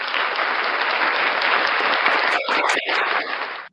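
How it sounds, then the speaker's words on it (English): A crowd applauding Unclean Hands, dense continuous clapping that holds steady, then breaks into a few scattered claps before stopping abruptly. "Round of applause for Unclean Hands."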